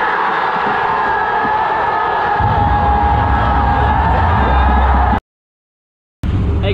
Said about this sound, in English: They're just like constantly chanting